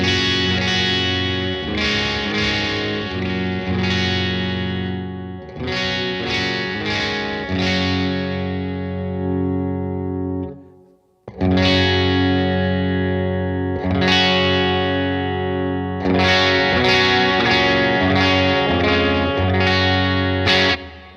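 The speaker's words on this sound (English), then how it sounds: "that reverb, love it. It's a digital reverb" A Bad Cat Black Cat guitar combo amp with its digital reverb on: strummed, slightly driven electric guitar chords ring out with a lush reverb tail. The playing stops briefly midway, then resumes.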